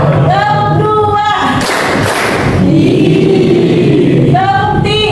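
Students in a classroom clap in unison after a teacher's spoken count, one broad burst of claps set between stretches of talk.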